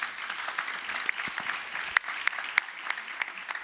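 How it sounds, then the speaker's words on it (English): Faint applause from a conference audience in a panel session hall, a soft continuous patter of many hands with a few sharper claps standing out, heard from a distance. "We'll give them a first round of applause."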